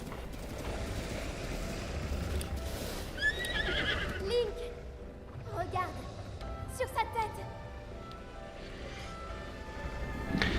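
A horse in the video game Breath of the Wild gives several whinnies over a bed of hoofbeats and game ambience, while commentators talk throughout.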